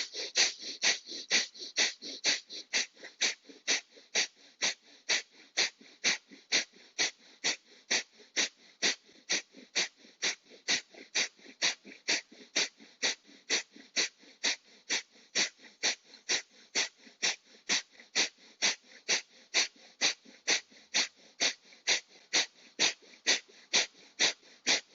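Rhythmic forceful exhalations through the nose during a breathing exercise, about forty sharp, evenly spaced bursts of breath repeated steadily and close, with no talking.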